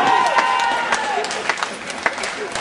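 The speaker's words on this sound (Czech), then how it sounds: "takže prosil bych pro něj potlesk." Brief applause and cheering from a crowd at a student Majales festival in Písek greets a musician, with scattered claps and a few shouts over a short burst.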